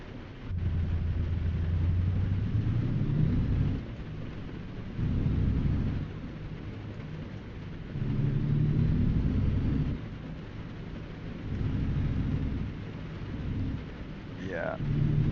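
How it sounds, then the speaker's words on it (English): Thunderstorm with rain in American Truck Simulator: steady rain hiss under deep rolling thunder rumbles that swell and fade several times, loud and close, with no talk. "The thunder sounds good."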